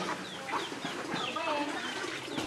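A backyard chicken clucks in several short, rising calls over a soft background, moderately near and fairly quiet.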